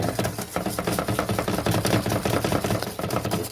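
Caramel pecan fudge mixture coming to a boil is stirred in a pot, giving a busy, rapid clatter of spoon scrapes and thick bubbling at close range with no talk.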